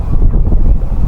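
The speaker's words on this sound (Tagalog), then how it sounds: "Ayan lakas ng hangin lakas ng hangin pero hindi malamig, hindi freezing." Strong wind buffets the microphone outdoors on a city street in the Czech Republic, producing a loud, low rumbling gust that is heard alone, with no voices.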